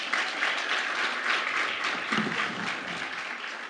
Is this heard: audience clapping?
yes